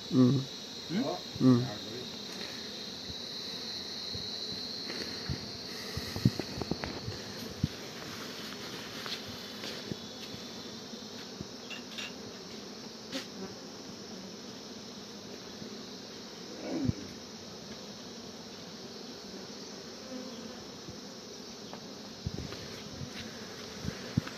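Bees hum faintly and continuously over a long stretch, with occasional louder close passes, scattered rustles and knocks, and someone speaking now and then.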